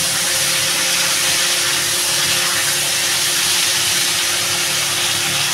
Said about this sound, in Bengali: আমি এবারে ওলের ডাঁটাগুলো আমি এটার ভিতরে দিয়ে ভালো করে কষাবো